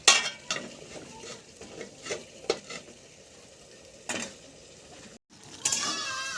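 Chicken curry with spices being stirred in a pot, a spoon scraping and clinking against the metal in irregular strokes over a soft background sizzle, with one brief silent gap.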